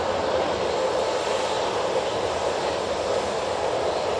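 A TUI airliner on its takeoff roll at Manchester Airport makes a steady, broadband engine roar heard from a distance, unchanging and continuous throughout.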